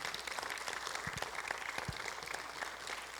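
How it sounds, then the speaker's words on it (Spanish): Church congregation clapping at a Spanish-language service, a faint, distant patter of applause held low throughout with a few sharper claps standing out. "Dele un fuerte aplauso al Señor."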